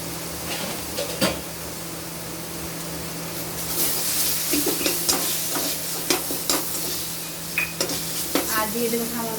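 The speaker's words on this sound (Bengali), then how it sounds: "এটা 2-1 মিনিট আমরা কষে নিয়ে নামিয়ে নেব" Chicken pieces sizzle and fry in a pan with tomato ketchup and spices while a utensil stirs and scrapes, giving a steady close hiss broken by irregular clacks and scraping strokes.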